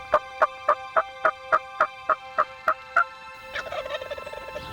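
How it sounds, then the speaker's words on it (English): A wild turkey in a field gobbles in a rapid, evenly spaced series of about ten loud rattling notes, followed by a softer, jumbled trailing gobble. "this one that keeps gobbling"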